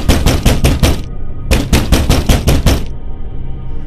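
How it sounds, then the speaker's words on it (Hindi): Heavy pounding on a door, used as a horror-story sound effect: two loud bursts of about six rapid, hard knocks each, separated by a short pause, with no voices. "ऐसी आवाज आई मानो कोई दरवाजे पे जोर से दस्तक दे रहा हो"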